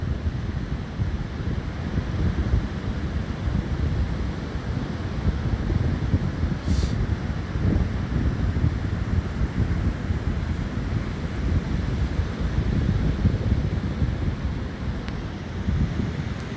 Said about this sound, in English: you could really hear the waves just because of the way they're breaking